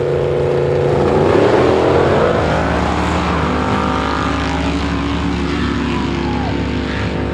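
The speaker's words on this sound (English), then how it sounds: "This is the buggy races." Off-road buggy engines rev and roar at buggy races at Plant Bamboo in Florida, a loud continuous drone rising and falling in pitch as the machines accelerate, with no talking.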